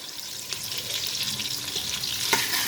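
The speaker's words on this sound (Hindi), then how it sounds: "ये जी प्याज फ्राई हो रहा है" Chopped onions frying in a pan as the base for dhaba-style chana dal, a steady close sizzle with light stirring scrapes and no voices.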